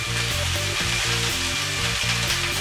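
Salted meat sears in a pan heated as hot as possible, giving a steady, close, continuous sizzle with a low background tone underneath.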